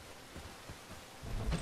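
Rain in the video game Bellwright, heard as a quiet steady patter with a soft low rumble swelling near the end and no voices over it.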